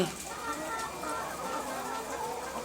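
Egg-laying hens on a farm, cooled by a sprinkler, cluck softly in a fairly faint, busy mix that sits over a steady hissing background.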